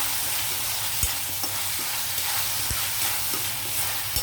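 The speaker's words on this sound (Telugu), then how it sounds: "ఈ ఉల్లిపాయలతో పాటు రొయ్యలు కూడా వేగితే బాగుంటుంది" Prawns fry with onions in a pan for a chana dal prawn curry, producing a dense, steady hiss and crackle punctuated by a few soft knocks of stirring, close up and without speech.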